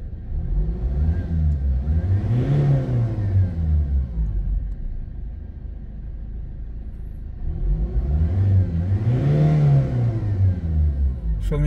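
Ford Ranger 2.2 engine with a low-power fault and check-engine light, idling steadily and revving twice, each rev rising and falling in a smooth swell, close and loud with no talk.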